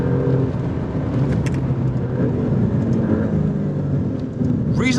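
A 2024 Alfa Romeo Stelvio Quadrifoglio on a race track in manual mode, its engine droning loud and steady under road and wind noise while shifting gears, with no clear break for each shift.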